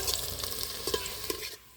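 Chopped onions frying into crisp golden beresta for a homemade chicken biryani, a steady close sizzle with light stirring scrapes running throughout, no voices.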